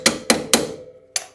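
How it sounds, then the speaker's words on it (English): A hammer strikes a washer nut on a car in four sharp, close metallic blows, three in quick succession and a fourth after a short pause, each ringing briefly. "you need to just get something and hammer out"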